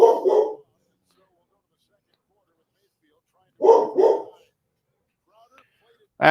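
Pet dogs indoors bark in short bursts of two or three sharp barks, separated by long silent gaps, loud and close, with another bark cutting in at the end.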